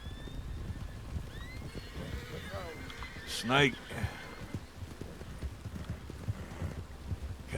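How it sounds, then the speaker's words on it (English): Horse neighing and hooves clopping in WildRP, a Red Dead game roleplay, with a sharp whinny midway over a steady clopping rhythm and heavy rain, while someone talks throughout. "Goddamn horses."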